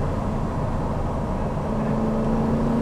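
Spyker C8 supercar engine droning steadily from onboard while driving, a continuous low rumble with a faint rising tone toward the end, no talk.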